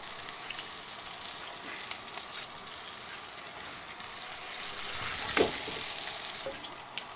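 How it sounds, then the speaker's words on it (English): Potatoes deep frying in hot oil in a home kitchen, a soft, continuous crackling sizzle heard close up, rising briefly in a louder bubbling burst near the end, with no talk. "That means we're in good action here for some deep frying."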